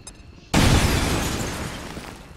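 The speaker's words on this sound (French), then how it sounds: "Explosion!" An explosion in the video game XCOM 2: War of the Chosen hits suddenly after a quiet moment, a loud burst that slowly fades into a rumbling, shattering tail.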